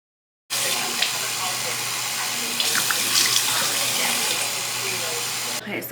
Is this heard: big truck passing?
no